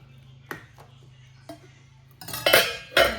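Ridge gourd curry with gravy is served into a plate, giving a few light clinks of a utensil against dishware and then louder scraping, clattering strokes near the end, heard close with no talk.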